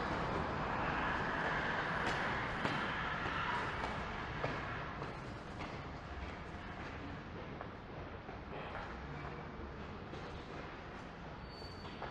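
Subway train rumbling through a Toronto metro station, a broad, sustained roar that fades gradually over several seconds, with a faint high squeal near the end.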